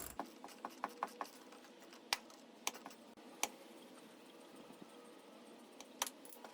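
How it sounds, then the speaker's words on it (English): A 15mm wrench works the shock nut loose on a 1997 Jeep TJ in a series of sharp metallic clicks and ratcheting ticks. They are close and irregularly spaced over a quiet background. "So I've got my 15mm wrench here, and I'm going to hold on to the top of the shock"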